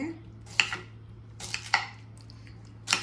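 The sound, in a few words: cutting pineapple into small pieces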